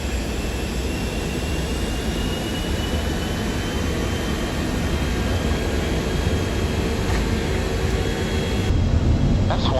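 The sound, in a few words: heavy aircraft engines during takeoff roll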